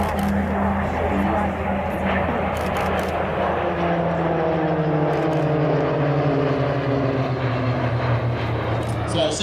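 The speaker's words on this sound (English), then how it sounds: "To our left, formation Pelican coming in for their low pass" A formation of aircraft at the Warbirds Over Wanaka airshow in New Zealand makes a low pass, a steady droning engine roar with slowly falling pitch as the planes sweep by, loud and sustained throughout.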